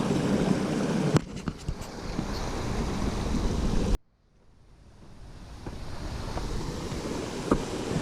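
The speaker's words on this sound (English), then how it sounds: "Another shot of the stream." A mountain stream rushes along the Alum Cave Trail as a steady broadband wash of flowing water, cut off abruptly partway through and then slowly swelling back, with occasional clicks and no voices.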